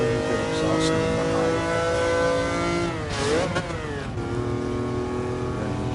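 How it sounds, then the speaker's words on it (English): Four-cylinder car engine in GT Sport revving hard and loud and continuously, its pitch sweeping up and down with gear changes midway through. "revving up there. Beautiful four-cylinder exhaust note"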